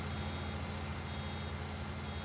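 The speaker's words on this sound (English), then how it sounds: "There's that beep. We all love the beep." A vehicle in Farming Simulator 19 reversing, with a steady, repeating electronic beep over a constant low engine drone and rumble, moderately faint, with no voices.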